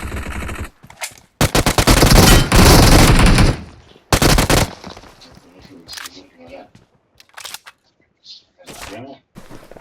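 Gunfire in an online shooter video game: loud bursts of rapid automatic fire, one long sustained volley in the first seconds, then sparser single shots and short bursts, with players talking over the action.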